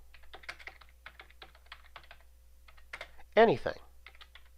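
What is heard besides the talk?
typing on a computer keyboard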